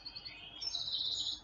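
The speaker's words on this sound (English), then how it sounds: "Or if you don't, there's also birds." Bird chirps from a meditation app's nature sounds, a short pair of high, thin tweets, the second longer and louder, over faint background hiss.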